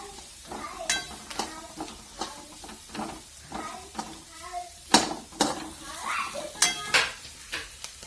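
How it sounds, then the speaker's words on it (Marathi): Tomatoes sautéing in a ghee tadka for dal, with repeated spatula scrapes and clanks against the pan over a soft sizzle, moderately close and regular, with no one speaking. "तर टमाटर पण टाकून आणि चांगलं परतून घ्यायचं"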